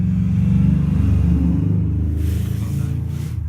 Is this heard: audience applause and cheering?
no